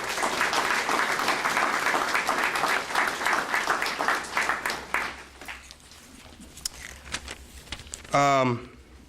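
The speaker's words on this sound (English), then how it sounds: "give them a round of applause, because they did a phenomenal." A round of applause at a fire department awards ceremony, dense clapping for about five seconds that thins out, followed by quiet rustling and a brief voice.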